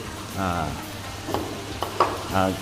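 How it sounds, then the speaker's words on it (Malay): Steady sizzling as blended onion is added to a hot frying pan, with scraping stir sounds, while people talk nearby in a kitchen. "kita masukkan bawang yang kita dah blender tadi lah"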